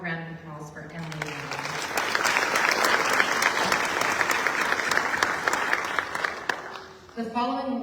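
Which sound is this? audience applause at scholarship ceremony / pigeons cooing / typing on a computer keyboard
audience applause at scholarship ceremony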